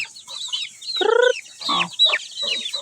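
Chicks and chickens clucking close by in a backyard, a run of short squawky calls and one louder, harmonic cackle in the middle, with no talking.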